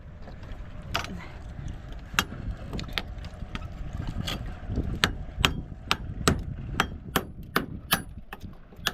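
A string of sharp hammer strikes rings out over a steady background rumble, sparse at first, then quicker and more regular toward the end.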